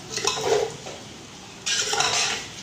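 A spoon stirs and scrapes eggs into chicken and vegetable rice in a metal pot, with clinking, scraping strokes in short bursts and a louder scrape near the end.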